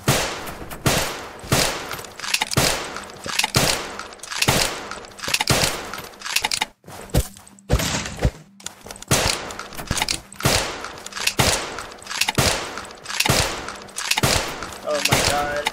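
Repeated loud sniper rifle shots in the battle royale game Zombs Royale, a snipers-only match, cracking at an irregular but steady pace, with a brief lull around the middle, and no talk.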